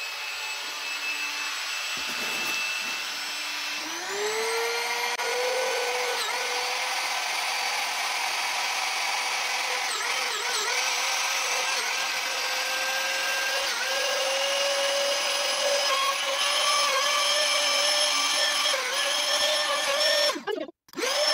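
A household vacuum cleaner is switched on partway in and runs with a steady loud whine and rising pitch, continuous and close, before cutting off abruptly near the end.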